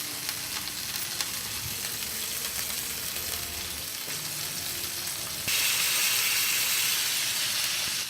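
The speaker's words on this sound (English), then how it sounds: "the pan is ready. I'm gonna put the steak in." Steak sizzles steadily as it sears in a pan with fresh thyme and butter, a constant close frying hiss that jumps louder and brighter partway through, with no talking.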